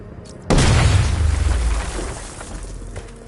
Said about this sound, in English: Get close and apply the explosive directly to destroy